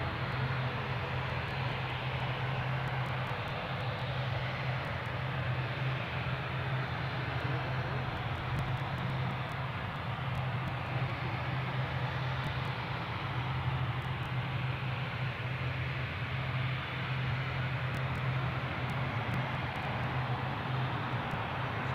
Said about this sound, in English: we are waiting for the incoming Belfast flight, small minutes away, if not seconds